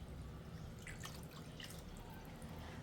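Water poured into a large pot of beef bulalo soup, a faint splashing trickle with small dripping spatters, quiet and close, no talk.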